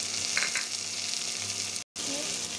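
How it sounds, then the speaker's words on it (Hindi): Tomatoes fry in a pan with ginger-garlic paste for a potato and spinach dish, a close steady sizzle with faint stirring touches and a brief cut to silence near the end. "टमाटर फ्राई हो गया है"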